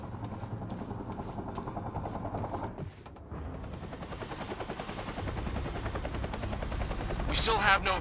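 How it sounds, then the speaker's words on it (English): Helicopter in the video game Quantum Break, a steady rotor chop and engine drone under bursts of rattling gunfire, growing louder toward the end with sharp metallic impacts. "Better get inside before the chopper spots me."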